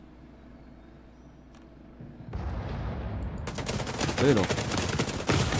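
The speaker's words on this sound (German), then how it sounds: "Guck mal, ich schieße und schieße und schieße" Gunfire in the video game The Division 2, starting quiet with a brief spoken remark, then rapid sustained bursts of automatic shots grow louder and denser toward the end.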